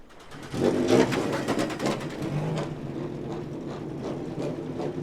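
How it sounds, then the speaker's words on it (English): Indy Pro 2000 race car engines firing up on the Mid-Ohio pit lane, a rising mechanical roar with a few sharp revving bursts early on, then a steady, fairly loud idle drone from several cars. "engines coming to life on pit lane"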